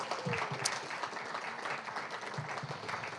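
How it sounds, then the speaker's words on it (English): An audience at a creative writing reading claps for Natasha Wimmer, a fairly soft, continuous wash of many hands with a few sharper individual claps standing out. "One more big round of applause for Natasha Wimmer."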